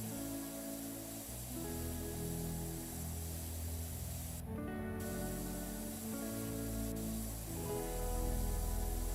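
Pressure washer spray in the game PowerWash Simulator, a steady broad hissing rush that runs continuously with shifting low tones underneath and a brief cutoff midway.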